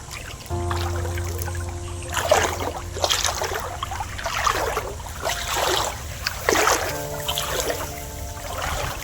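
Floodwater runs across a farm field after heavy rain, a steady rushing and trickling wash with louder surging bursts near the microphone and a low constant hum beneath.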